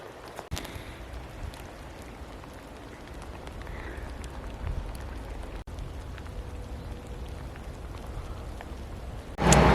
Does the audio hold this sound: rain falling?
yes